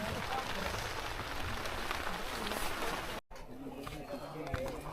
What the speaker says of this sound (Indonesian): Di luar hujan tapi nggak terlalu deres,